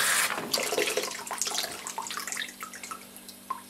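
Water trickles and splashes from a newly replaced water heater safety valve, running as a thin, steady flow that starts strong and gradually tapers down, close and alone.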